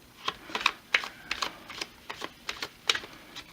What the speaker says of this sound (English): But I shuffle like this